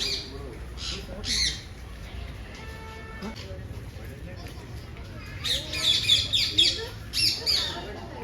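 Native parrots in a zoo enclosure give sharp squawks and chirps in scattered bursts, a few clustered near the end, with quieter voices in the background.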